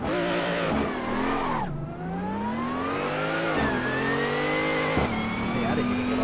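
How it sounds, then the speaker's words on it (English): A race car engine revs in a racing video game, loud and close, its pitch climbing, dropping sharply and surging again through repeated gear changes with no talk over it. "Is the engine noise better?"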